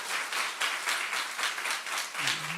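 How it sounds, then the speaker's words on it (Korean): A church congregation claps together in a steady, brisk rhythm after a youth group's worship song, the rounds of applause near and even. A short vocal sound comes in at the very end. "우리 다시 한번 박수할까요?"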